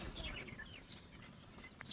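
Chickens clucking and chirping at a poultry farm over a dense, noisy farmyard background, with no voices; short calls scattered throughout at moderate distance.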